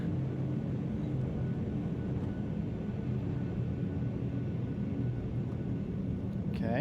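Spaceship afterburner in the video game Star Citizen, a steady, loud, dense rumbling roar that holds at an even level throughout with no breaks.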